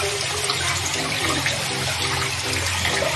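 Water runs steadily from a kitchen tap as boiled noodles are rinsed under cold water, a constant broad hiss and splash with no talking.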